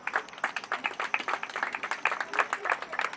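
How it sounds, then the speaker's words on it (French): A small audience claps for a performer at an evening show, a light, fairly quiet patter of individual hand claps keeping an irregular rhythm for a few seconds. "Mesdames et messieurs, on applaudit pour Papa Tchira,"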